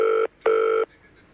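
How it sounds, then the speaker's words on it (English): A telephone rings in two loud, steady electronic bursts separated by a short gap, followed by faint residual tone, with no talking over it. "Would you let a phone ring for quite this long before picking it up?"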